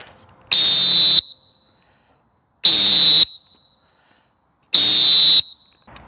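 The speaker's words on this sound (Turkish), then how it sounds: "sürekli kullandığım kibar düdüklerden bir tanesi" Three long, piercing high-pitched blasts from a coach's whistle, evenly spaced with silent gaps between them, loud and close.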